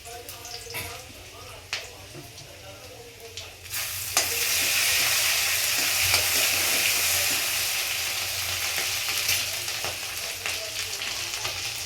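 Sliced garlic, cumin seeds and dried chillies hit hot oil and erupt into loud, steady sizzling that holds close and continuous after a quieter start with some clatter, while a voice talks over it.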